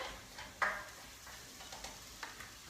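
Spaghetti squash casserole ingredients for a buffalo chicken bake being tossed in a bowl, giving a few soft, scattered stirring and scraping sounds at close range with one sharper clack, fairly quiet, with no talk.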